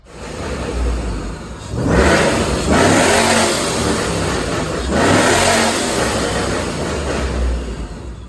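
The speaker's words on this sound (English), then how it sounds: "We have a 13 GT today, Paxton Supercharger, just installed it." A 2013 Ford Mustang GT fitted with a Paxton supercharger revs loudly up close in two long surging pulls, the supercharger whine and exhaust swelling and easing between a rumbling idle.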